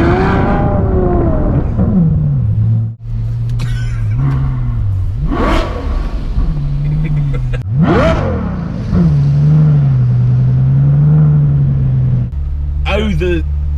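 A Ferrari FF's engine is revved hard toward the red line in a couple of rising, whining sweeps over a steady droning idle, loud and close, with people talking throughout.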